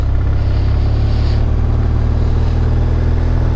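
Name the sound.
exotic sports car driving past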